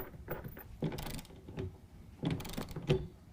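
A ratchet wrench tightens a clamp bolt on a tonneau cover fitted to a 2019 Ram 1500 truck bed, with two short bursts of rapid, close ratchet clicking separated by brief pauses.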